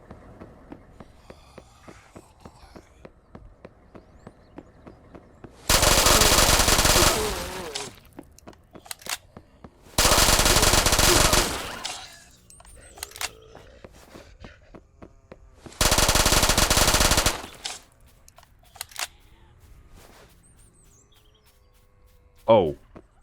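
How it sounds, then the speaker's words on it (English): Three long, loud bursts of sustained automatic fire from a submachine gun in the video game Those Who Remain, each lasting a second or two and separated by quieter gaps with faint background game sounds. "I sprayed an entire mag and killed 4 guys."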